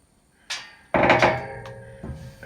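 Metal hinge on a cattle trailer knocking against a wooden block, a few sharp clanks and thuds, one heavy ringing hit followed by a softer knock, close up with no voices.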